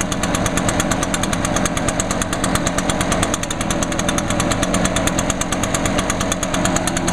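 Echo PB500-class backpack leaf blower with its two-stroke engine running steadily, a loud, close, continuous buzzing drone with a rapid pulsing rhythm and no pauses.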